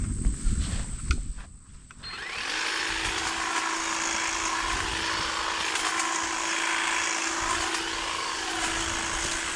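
A battery-powered trimmer cuts a branch just under an inch thick outdoors. Brief rustling and handling noises give way to a steady, high-pitched motor whine that carries on close and constant.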